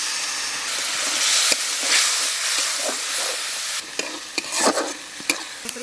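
Ground cumin, coriander, turmeric and other spices fry and get stirred in a pan on a tribal home stove. A steady loud sizzle and hiss runs throughout, broken in the second half by sharp scraping clicks of the stirring utensil.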